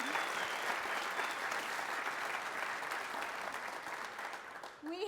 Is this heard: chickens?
no